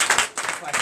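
A church congregation clapping during a Sunday service in Comè, Benin: a dense, fast patter of hands, loud and continuous for under a second, with voices mixed in.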